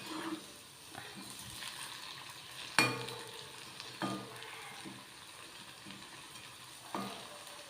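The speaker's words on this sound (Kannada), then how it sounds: "ಈ ರೀತಿ ಎಲ್ಲನೂ ಫ್ರೈ ಮಾಡ್ಕೋಬೇಕು" Potatoes frying in a pan at home, a steady close sizzle with occasional stirring clatters and scrapes from a utensil, no voices.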